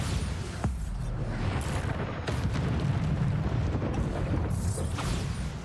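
Repeated spell blasts and explosive booms from the Bombarda spell in Hogwarts Legacy, loud rumbling bursts in close succession with little talk.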